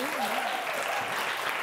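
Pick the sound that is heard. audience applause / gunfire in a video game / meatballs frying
audience applause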